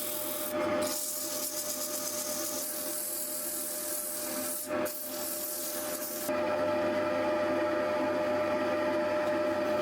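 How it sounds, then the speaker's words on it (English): Leopardwood is rubbed flat against sandpaper on a board, making a steady, close, gritty scraping that runs continuously with only brief breaks and grows slightly harsher toward the end. "I'm using that board in combination with the sandpaper just to make sure that it's perfectly flat."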